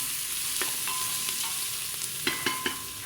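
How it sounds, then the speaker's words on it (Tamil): Onions sizzle steadily in a hot pan for goat leg curry (paya), with a spoon scraping and stirring in several short strokes over the constant frying hiss. "வெங்காயம் நல்லா வதங்கணும்."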